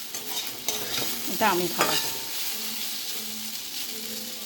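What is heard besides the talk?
pumpkin frying in pan with mustard seeds and dried chilli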